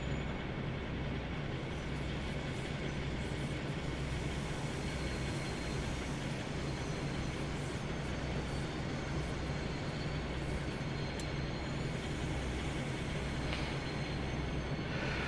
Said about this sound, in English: Class 52, just arriving, having ridden all the way from Plymouth, just coming into Exeter.